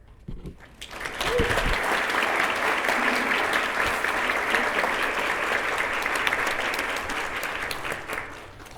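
A banquet audience bursts into sustained applause honoring a district Teacher of the Year, a dense, loud wash of many hands clapping that swells after a second and holds steady for several seconds before easing.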